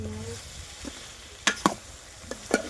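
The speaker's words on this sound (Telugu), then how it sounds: "కంది ముక్కలు అయితే మగ్గిపోయినాయండి నూనెలోను" Pigeon pea pieces frying in oil: a soft sizzle runs under several brief, sharp scraping and clinking stirs, with a faint voice at the start.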